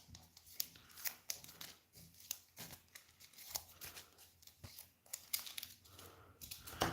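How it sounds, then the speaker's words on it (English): A deck of game cards is shuffled by hand for a tabletop game, with a run of crisp, uneven riffling and snapping bursts, close and fairly quiet, and no talking. "So let's shuffle these up."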